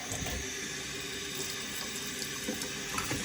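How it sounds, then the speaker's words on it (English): Steady rushing of hot water pouring and splashing into the reservoir of a Keurig coffee maker, continuous and fairly close with no talking. "We'll put hot water."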